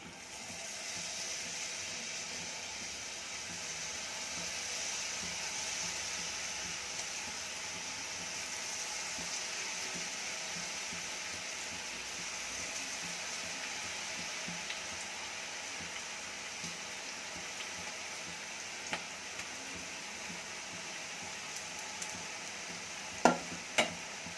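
Cabbage pakoda frying in hot oil, a long, even sizzle heard close up, joined near the end by a couple of sharp clicks from the utensil.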